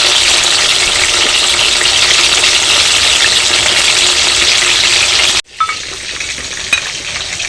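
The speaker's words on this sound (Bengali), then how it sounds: "এই বাটার চিকেনের মাংসগুলো একটু সময় নিয়ে একটু ভালো করে ভেজে নিতে হবে।" Butter chicken meat pieces fry in a pan with a loud, steady, close sizzle and light stirring for over five seconds, then the hiss drops suddenly to a quieter fry with a few scrapes.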